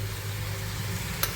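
An onion curry tempering sizzles in a hot pan, a steady close crackle and hiss with one sharp click near the end.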